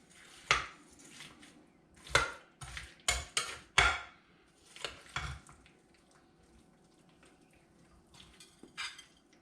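Spoonfuls of gluten-free mac and cheese with smoky bacon bits scraped and served from a hot oven dish, giving several sharp clinks and scrapes of utensil against dish, then softer scraping, close by with no talking.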